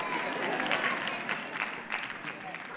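Scattered audience applause fills a hall at a talk about dreams, moderately loud and fairly steady, with a voice speaking faintly underneath the clapping.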